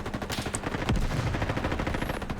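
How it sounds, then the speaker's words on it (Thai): Gunfire in the Roblox shooter game Frontline, steady rapid automatic bursts with a sharp single crack near the middle, close and continuous throughout, with no one speaking. "ยิงกันใหญ่เลยเว้ย"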